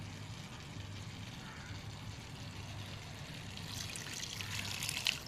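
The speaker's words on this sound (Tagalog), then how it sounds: "Tapos, lagyan na natin siya ng tubig." Water is poured steadily into a cooking pot holding chicken and green papaya for tinola, a soft continuous trickling stream that grows a little brighter and louder toward the end.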